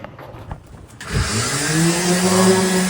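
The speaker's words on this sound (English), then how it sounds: "Dad's giving the floor a light sanding between the coats" A few faint knocks, then a power sander starts up and runs with a loud, whirring buzz that wavers in pitch, close by, lightly sanding a boat's cabin floor between coats of finish.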